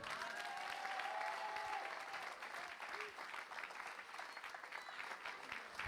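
A church congregation applauds in a dense, continuous wash of clapping, with voices and some sustained musical tones mixed in, steady throughout.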